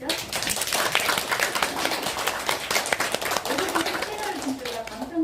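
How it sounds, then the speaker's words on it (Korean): Clapping from a studio audience after a Korean presidential candidates' policy debate, a steady run of claps mixed with voices, easing off toward the end. "박수 한번 드리죠"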